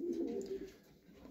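A racing pigeon coos close by, one soft, throaty, rolling call that fades, then starts again right at the end.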